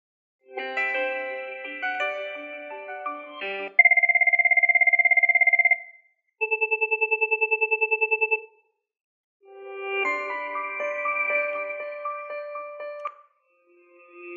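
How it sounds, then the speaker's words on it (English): A Cisco 8811 IP phone plays a series of different ringtone samples one after another: a chiming melodic tone, a steady sustained beep, a rapid pulsing trill, then another melody, each separated by short silences. "Highlight the various ringtones and sample each of them by pressing the Play soft key."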